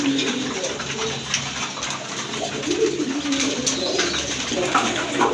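Giribaz racer pigeons coo in repeated low, rolling phrases close by, set against a busy background hiss and faint splashing.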